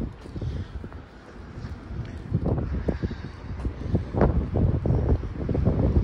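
Strong wind buffets an outdoor spot on the way to a birthday party, a loud, rough, rumbling roar with gusty surges that swell toward the end.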